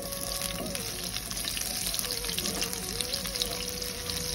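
Onions sizzling in hot oil in a pan for butter chicken, a steady, even crackle and hiss running throughout at moderate volume, with faint background tones.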